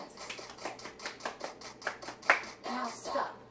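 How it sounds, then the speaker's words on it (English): Children at a church vacation Bible school clapping their hands, a quick run of fairly quiet, evenly spaced claps with a few louder scattered ones near the end. "And everybody clap your hands."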